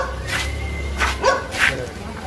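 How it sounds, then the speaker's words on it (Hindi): A pack of street dogs barking outdoors, a few short sharp barks and yips in quick succession at moderate distance over a low background rumble. "तो यहाँ कुत्तों की पलटन।"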